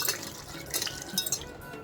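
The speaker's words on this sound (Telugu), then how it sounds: "ఒక్కొక్కటి ఇలాగ బాగా అర్దుకొని వాటర్ పోసుకొని కడిగేసుకోవాలి" Fresh mushrooms are rubbed and rinsed by hand in a kitchen for a masala curry, giving soft sloshing and trickling water with light splashes, close and steady over about two seconds, with no talking.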